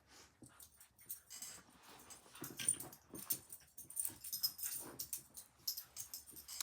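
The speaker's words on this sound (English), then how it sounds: "The sounds you are hearing are my 2 dogs" Two dogs playing whimper and pant faintly in a busy, scuffling jumble of small yips and movement, continuous throughout.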